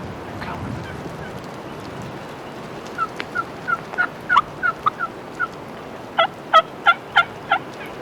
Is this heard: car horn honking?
no